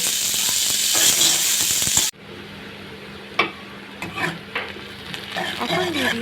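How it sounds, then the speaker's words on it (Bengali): Chopped onions sizzle loudly in hot oil in a pan for about two seconds, then drop to a quieter hiss with scattered clinks and scraping as they are stirred. "পেঁয়াজটাকে একদম লাল লাল করে ভেজে নিচ্ছি"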